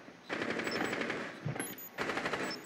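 Automatic gunfire in Rainbow Six Siege during a tower hostage team deathmatch, two loud rapid bursts of shots close by, separated by a short quiet gap with a single thud, no speech.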